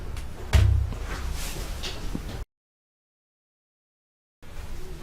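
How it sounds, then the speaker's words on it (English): An apartment door opened by a stranger: a sharp latch clunk and thud followed by brief rustling movement, fairly close, then silence. "that was the sound of some guy just opening our door because he thought it was a different apartment"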